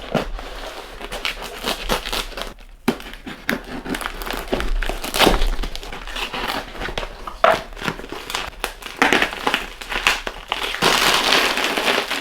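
A beer shipping box is opened, and its packaging crinkles and crunches in loud, irregular bursts of close-up crackling and crumpling that continue throughout without any talking.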